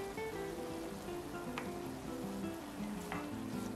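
Meat stir-frying in a pan for a doenjang-sauce eggplant rice bowl, a steady soft sizzle with a couple of brief scraping clinks from stirring, close and alone.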